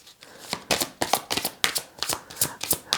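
Earth Magic oracle cards are shuffled by hand in quick, crisp riffling bursts, repeating in a steady rhythm close up with no talking.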